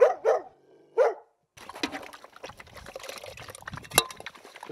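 A few sharp barks from hunting dogs ring out near the start, then give way to a busy clatter of outdoor noise.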